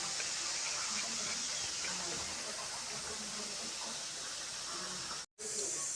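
A pressure cooker cooking rice gives off a steady, unbroken steam hiss that stays loud and even, with one brief dropout near the end.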